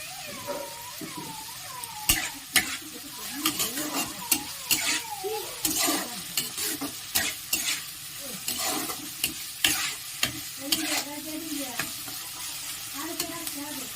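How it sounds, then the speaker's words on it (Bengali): Onion and vegetables being stir-fried for street-style egg chowmein, a spatula scraping and clanking against the pan in irregular strokes over a steady low sizzle, close and fairly quiet. "খুব ভালো করে ভেজে নিতে হবে।"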